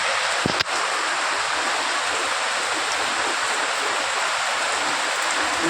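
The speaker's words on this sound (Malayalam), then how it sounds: "രാവിലെ തുടങ്ങിയ മഴയുണ്ട്" Heavy rain falls in a dense, constant roar that stays even from start to finish, with a single short knock early on.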